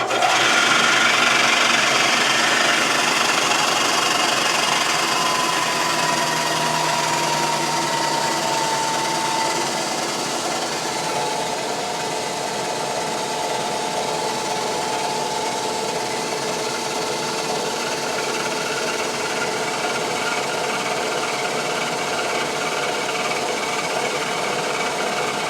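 A phase converter powers a cylinder boring machine working on a Honda CB175 motorcycle cylinder, giving a loud, steady mechanical hum and whine that runs unbroken throughout.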